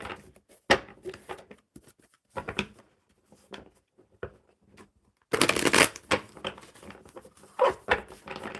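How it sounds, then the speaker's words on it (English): Playing cards riffled and shuffled in bursts, crisp rapid fluttering close by, with short pauses between shuffles and a louder final riffle. "One more good shuffle."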